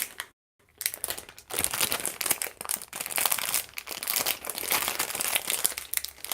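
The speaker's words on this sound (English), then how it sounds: "Almost sounds like I'm unwrapping candy here." Crinkling plastic wrapping pulled off a BH Cosmetics dual cleansing brush pad, loud, close and continuous crackling after a brief silent moment at the start.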